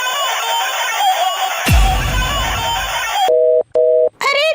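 A telephone call tone in a cartoon scene sounds as a steady electronic tone, broken by a sharp noise burst partway through, then short pulsed beeps with gaps near the end.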